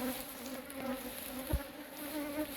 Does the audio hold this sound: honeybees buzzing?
yes